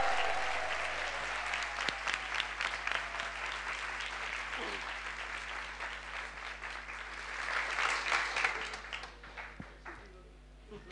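An audience applauds warmly and continuously at a devotional talk, a dense sustained patter that swells again before fading out near the end.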